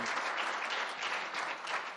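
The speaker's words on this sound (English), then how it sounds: "A round of applause, Chevra." Steady audience applause fills the room at a religious community panel event on gap years in Israel, dense and continuous clapping from a crowd, fairly close and sustained throughout with no voices on top.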